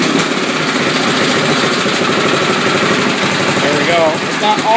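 A Wheel Horse 211-5 garden tractor engine runs just above idle, a loud, close, steady mechanical chug with a rough vibrating rhythm.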